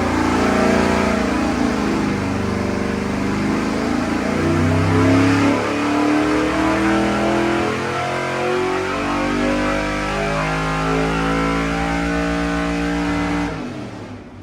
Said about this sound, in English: we want to warm the engine up and make a baseline pull first before we make any changes